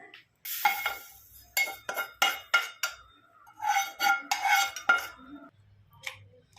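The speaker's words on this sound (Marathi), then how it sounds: "आता तीळ आपण ताटामध्ये काढून घेऊ।" Roasted sesame seeds are scraped from a pan onto a plate while making til ladoo, giving a run of sharp metallic scrapes and clinks in irregular bursts, close and fairly loud, then a quiet pause.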